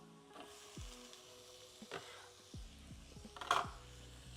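Tomatoes are tipped into sauteed onions in a hot pan, a quiet close sizzle with several short scrapes and clunks of a spoon and a brief louder burst near the end, with no talk.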